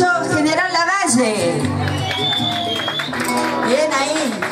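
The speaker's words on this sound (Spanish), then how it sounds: "Bien ahí, fuerte los aplausos." Outdoor audience at a gaucho parade clapping and cheering, a continuous crowd roar beneath a loud amplified announcer's voice and music.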